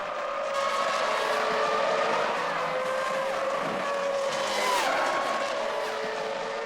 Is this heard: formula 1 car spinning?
yes